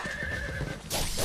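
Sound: horse neighing in video game Ninja Gaiden

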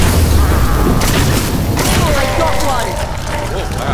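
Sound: grenade explosions in the video game Nosgoth

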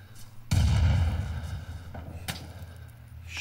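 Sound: gunfire in the video game Rising Storm 2 Vietnam

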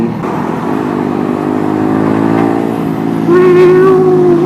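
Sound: motorcycle engine under throttle

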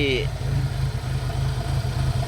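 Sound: Mitsubishi 4G63 twin-cam engine idling unevenly

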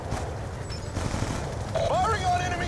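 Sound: gunfire on enemy ASDs in Black Ops 2 video game

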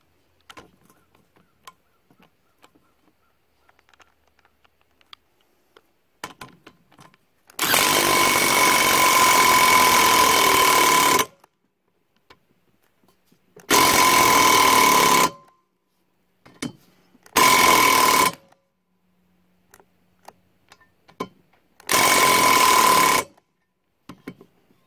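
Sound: running a rocker nut down to pull Vortec 350 head studs

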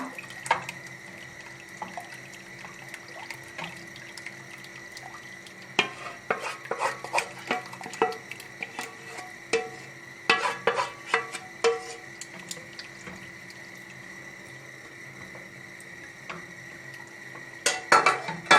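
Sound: stirring flour roux in a pot

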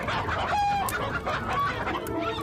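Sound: rooster clucking

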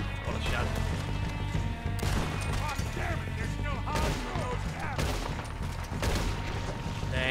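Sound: gunshots in the video game Red Dead Redemption 2

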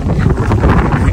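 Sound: hot dust storm wind blowing

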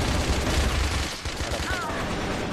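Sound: gunfire from a video game, pistol and sniper

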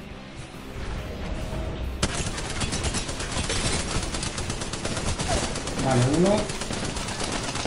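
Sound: gunfire in video game Apex Legends

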